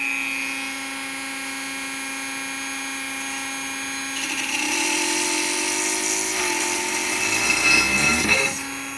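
A drill bores a hole in an 01M automatic transmission valve body from a Volkswagen Jetta. A steady whine runs throughout and grows louder and harsher about midway, rising to a strained peak near the end.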